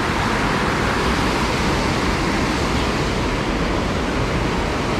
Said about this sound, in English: It's a bit rainy, which means gushing waterfalls.